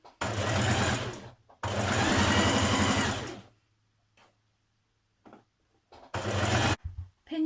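A home sewing machine basting the edges of a skirt together runs in bursts: two long whirring stitch runs, a pause with faint low hum and light clicks, then a shorter final run.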